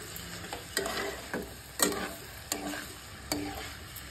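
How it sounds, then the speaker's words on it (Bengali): Leftover rice frying with scrambled egg in a pan, a low continuous sizzle broken by about five distinct scraping stirs of the spatula, close and fairly quiet with no voices. "এবার ডিমের ভুজিয়াটা আমি দিয়ে দেব, দিয়ে এবার ভালো করে ভেজে নেব"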